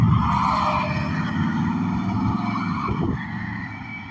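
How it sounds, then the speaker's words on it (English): A passing truck with dual exhaust idles and rumbles nearby on a road, a steady low engine drone with a brief rise in the middle before fading slightly. "Got a nice sound to that truck there."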